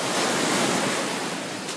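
Ocean waves at Miami Beach wash in as a broad, steady roar of surf, loud and close, with some wind noise against the microphone and no voices.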